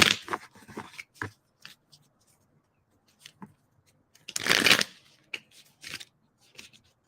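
Tarot cards shuffled by hand up close, crisp riffling bursts and light taps scattered in short clusters with quiet gaps, one longer riffle near the middle.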